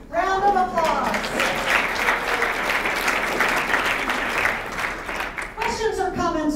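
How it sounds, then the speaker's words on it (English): Sustained audience applause at an affordable housing summit meeting, steady dense clapping for several seconds, with a voice speaking briefly at the start and end. "Round of applause."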